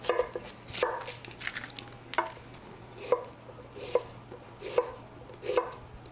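A knife slices through a round food item on a cutting board during a cooking demonstration, about eight crisp chops landing at an uneven, unhurried pace close by, with soft handling noise between them.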